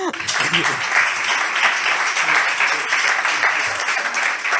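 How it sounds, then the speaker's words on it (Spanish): An audience at a round-table panel on circularity applauds: dense, steady clapping that fills the whole stretch at an even level, with a faint voice underneath. "Un aplauso para él."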